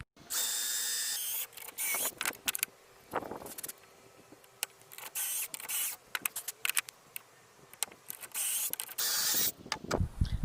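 A drill bores pocket holes in wood for a Peugeot Expert campervan conversion, loud bursts of whirring and grinding broken by short pauses and clicks, close by and without talk.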